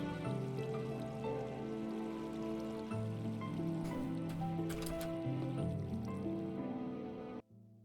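Water buckets being placed into dispensers in Minecraft, heard as soft liquid splashes and gurgles under steady background music, ending in an abrupt cutoff.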